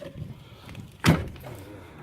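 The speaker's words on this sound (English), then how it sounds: "I can reach out and grab the screen door" A screen door on a Class A RV is pulled shut, a single sharp close clack midway after soft shuffling and handling noise, no talking.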